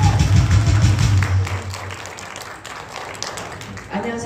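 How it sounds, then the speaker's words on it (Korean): A crowd claps in a dense burst of applause that gradually thins out, with a voice briefly audible near the start. "여러분 박수 많이 쳐주세요."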